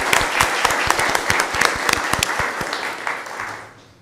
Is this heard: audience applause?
yes